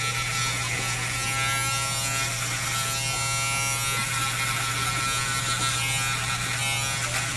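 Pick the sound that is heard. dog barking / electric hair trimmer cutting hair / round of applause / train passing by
electric hair trimmer cutting hair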